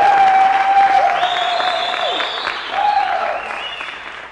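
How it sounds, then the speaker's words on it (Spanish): A studio audience at a televised comedy dance-contest show applauds the competing couples. Broad clapping runs throughout beneath sustained, sweeping tonal sounds. "¡Un aplauso para ellos!"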